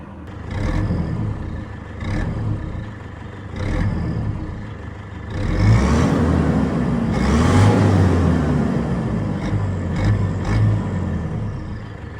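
The engine of a Toyota Hilux pickup with about 147,000 km on it runs at a steady idle, then rises in a swelling surge of revs before settling, with a few soft thumps over the drone and no talk.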